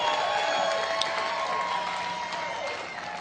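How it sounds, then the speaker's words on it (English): A seminar audience applauding T. Harv Eker, sustained dense clapping from a large crowd filling the room, steady and fairly loud throughout with faint cheering mixed in. "T. Harv Eker, let's give him a round of applause"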